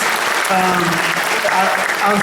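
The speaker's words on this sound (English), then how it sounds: "1000 aplausos merecen ustedes, todos los padres" An audience gives a sustained round of applause for parents at an event honoring runners' families, steady and fairly loud throughout, with voices talking over it.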